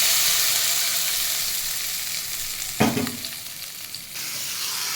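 Three dried red chillies, cut and dropped into a small tempering ladle of hot oil for arai keerai kadaiyal, sizzle steadily, with a sharp burst of crackling as they hit the oil.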